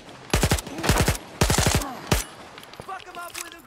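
Rapid bursts of automatic gunfire sound in the video game Stalker 2: Heart of Chornobyl. Several quick volleys of sharp shots come close together, then smaller scattered sounds follow.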